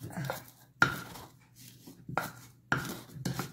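Garlic and parsley marinade for shrimp is stirred in a bowl, three separate bursts of clinking and scraping with short quiet pauses, close and fairly soft.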